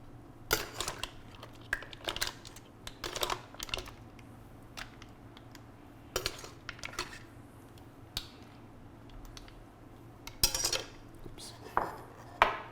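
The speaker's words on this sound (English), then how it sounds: "Make sure you have a spoon that can pick up some of this wonderful juice" A metal spoon with holes clinks against a pot while scooping mussels Provençal and their juice, giving sparse, light taps and scrapes at irregular intervals over a quiet background.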